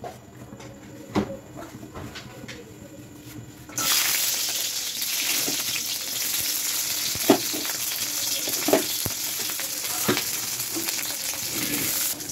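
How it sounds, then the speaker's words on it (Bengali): Garlic and green chilies frying in oil in a wok: after a quieter start, a loud, steady sizzle takes over and holds to the end, with occasional sharp stirring clinks. "এই তেলের মধ্যে আমি রসুন আর কাঁচা লঙ্কাগুলো ভেজে নেব।"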